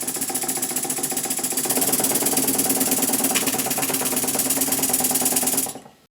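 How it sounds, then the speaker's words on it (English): An antique brass model steam engine runs on compressed air with a rapid, steady mechanical chuffing and knocking, close and loud, then stops abruptly near the end. The valve timing is off and excess steam oil sprays from the exhaust. "the engine runs"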